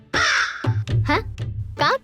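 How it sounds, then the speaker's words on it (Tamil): A crow caws several times, loud and close, in a short run of harsh, separate calls. "அது ஒரு காக்கா."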